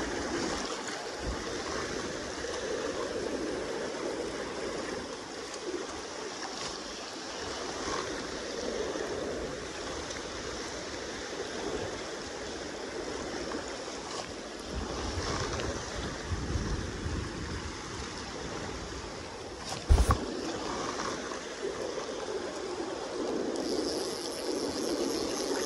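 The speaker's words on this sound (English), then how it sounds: "here goes some big choppy waves now because of the boat" Choppy wake waves from a passing boat slosh against the bank of the Kenai River at Bing's Landing, a steady rushing of water with wind across the whole stretch and one sharp knock near the end.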